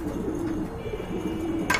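Pigeons kept for sale coo in a low, continuous murmur close by, ending with a brief sharp noise at the end and no speech.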